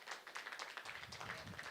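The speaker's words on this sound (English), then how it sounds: "Round of applause." A church congregation claps for a musician, a brief patter of scattered hands at moderate distance, with a low murmur of voices underneath.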